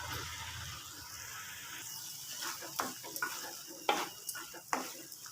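Coconut frying in a pan while goat brains are being cooked, with scraping stirs and sharp clinks of a spoon against the pan over a steady soft sizzle, close and moderately loud, with no voices.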